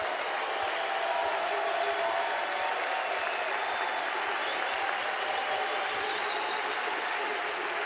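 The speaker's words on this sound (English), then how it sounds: "The crowd rises in support of Joey Volchko in Athens." A college baseball crowd in Athens, at a Mississippi State versus Georgia NCAA game, rises and applauds with scattered cheers, a sustained, moderately distant wash of clapping that holds evenly throughout.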